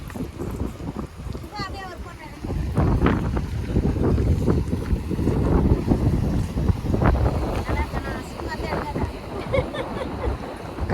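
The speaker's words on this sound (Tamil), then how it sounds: "காத்து பறக்குது." Strong wind gusts roar across the microphone at a seaside fish market at Kasimedu, a steady blustery rush with faint voices and market sounds underneath.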